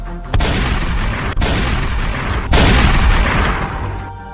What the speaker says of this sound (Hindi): जवाबी कार्रवाई में पुलिस ने गोली चला दी।